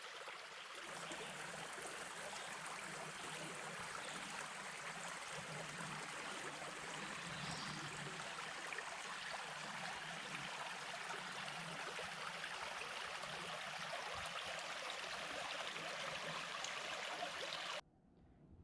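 Dutchman's Creek in Uwharrie National Forest, North Carolina, flowing around a bend, a steady broadband rush of moving water that holds even and unbroken for nearly the whole stretch before cutting off abruptly near the end.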